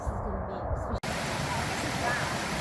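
Steady rushing water of a stream flowing across a road on a hiking trail in California, heard close and loud as a continuous broadband roar, briefly cut off for an instant before resuming unchanged.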